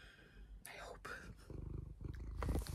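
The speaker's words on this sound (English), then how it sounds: "I don't know if you can hear purring at the moment" A house cat purring close by, a soft rhythmic low rumble that builds toward the end, with brief breathy whispering sounds over it.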